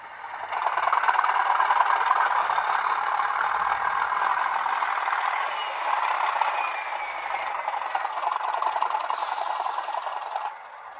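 A Bachmann Colas Class 37 model diesel locomotive's sound unit revs its engine, a steady rattling drone that holds for about ten seconds at moderate level, with no talking.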